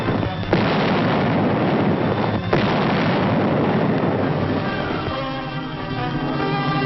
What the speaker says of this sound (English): Huge 155mm rifles, long toms capable of hurling a shell for more than 6 miles, go into action